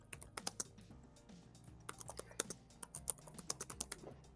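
Fast, forceful typing on a computer keyboard, a rapid irregular clatter of sharp key strikes with harder hits bunching up toward the end, fairly quiet and with no voices.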